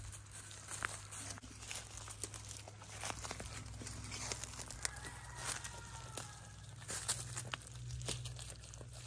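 Goats at an animal sanctuary rummage through food, giving faint, scattered rustling, crinkling and scraping with irregular soft taps over a low steady hum, with no talking.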